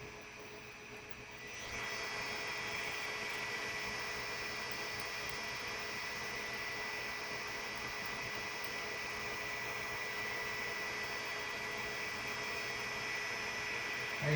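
A 3D printer running Klipper firmware moves, giving a steady whirring hum with high motor whine that holds evenly throughout, close and with no talk.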